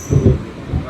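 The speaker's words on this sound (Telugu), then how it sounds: "ఈ లోపే మన ట్రైన్ అయితే స్టార్ట్ అయిపోయింది 11:47కి." The Guntur–Repalle MEMU train starts moving, a low rumbling thump of the carriage getting under way, with a couple of heavy pulses close by and a faint high whine above.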